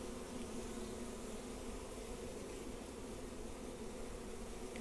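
A dense, steady hum of many bees fills the clip, a continuous buzzing drone heard close up inside a subarctic beehive during a hive check.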